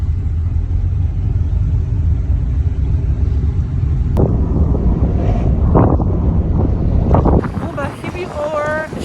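Strong outdoor wind in Morocco buffets the microphone with a constant loud, low roar, while someone talks over it through the second half.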